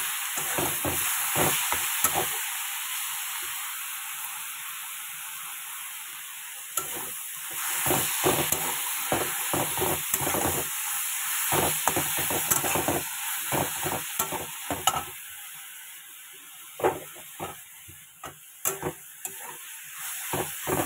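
Leafy greens sizzle and fry in a hot pan with continuous hiss, while a spatula stirs and scrapes in a quick irregular rhythm, close and loud, with no talk.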